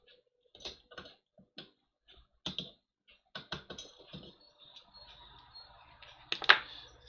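Screws are driven by hand into a PC case in a series of irregular clicks and ratcheting ticks, quiet and close, ending with a sharper metallic clack and a faint hum.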